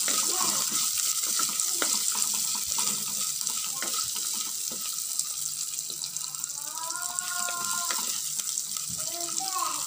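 Green chilies and crushed garlic frying in a pan for a fish kulambu, a soft steady sizzle with faint scraping stirs, with a faint voice in the background.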